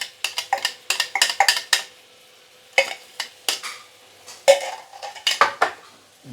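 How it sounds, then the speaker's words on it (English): A spatula scrapes and clanks in quick bursts against a pan while blended curry paste for Penang curry fish is sautéed, the sharp metallic strokes coming in clusters with short quiet gaps between them. "Saute for a couple of minutes before we continue."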